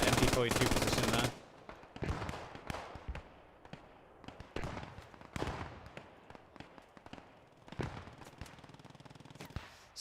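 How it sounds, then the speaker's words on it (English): Bursts of MG42 machine gun fire in the World War II shooter Post Scriptum: a dense, loud rattling volley at the start, then a long run of scattered near and distant shots and short bursts of gunfire. "Sprayed down again as that MG42 is on the flank"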